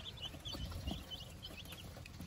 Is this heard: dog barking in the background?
no